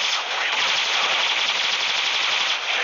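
Rapid automatic gunfire rattles continuously for a few seconds in a mobile commando shooter game, a dense, bright, compressed burst with no pauses.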